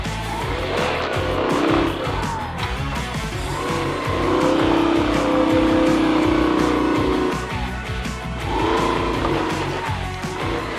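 Motorized tricycle engine revving and straining on a rough, rocky off-road track near Daldagon Dam in Siruma, Camarines Sur, loud and continuous with surging pitch as the vehicle lurches over stones.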